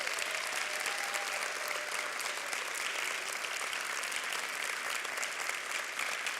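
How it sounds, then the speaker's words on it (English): Sustained applause from an audience honoring board members at an arts school launch event, a dense steady wash of many hands clapping at even loudness throughout, with no break. "let's give them a big round of applause"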